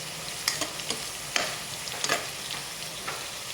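Tomatoes fry in a pan with a soft continuous sizzle while a spatula scrapes and taps the pan several times at uneven intervals, close and fairly quiet, with no talk.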